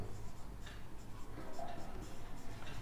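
Handwriting during a Class 10 trigonometry maths lesson, pen or chalk scratching in short irregular strokes, close and fairly quiet over a low background hum.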